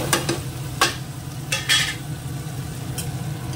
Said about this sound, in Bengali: এটার মধ্যে দিয়ে দেবো এই রসুন, পেঁয়াজ, কাঁচা লঙ্কা কুচানোটা